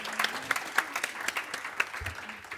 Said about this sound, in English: Where's my round of applause?